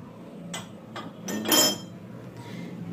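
Cups and plates being set out on a Christmas coffee station, a few light ceramic clinks and taps close by, the loudest in a brief cluster near the middle, over a low room hum.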